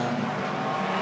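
Race cars circuit racing at the Malaysia Speed Festival, including a Honda DC5 and a Proton 1800, give a continuous loud engine roar held for a short burst with no talk heard.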